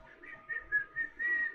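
Someone whistles a few bright, wavering notes of a tune, short and fairly quiet, with small breathy gaps between phrases.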